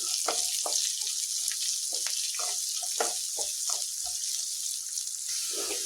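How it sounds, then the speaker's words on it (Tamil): Onions sauté in a pan for a quick cabbage stir-fry, a steady hiss of frying with repeated knocks and scrapes of a spoon stirring through the pan. "நல்லா வதக்கி விடுங்க வெங்காயம் வந்து நல்லா வதங்கணும்"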